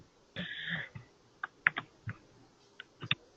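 Computer keyboard typing in short, uneven bursts of separate clicks, fairly faint, with one longer burst near the start and no one talking.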